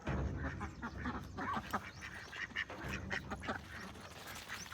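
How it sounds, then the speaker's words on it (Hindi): Ducks quacking in an outdoor animal enclosure shared with rabbits, a run of repeated short quacks at moderate distance over a busy background murmur. "अब हालांकि यहाँ पे डक्स भी हैं"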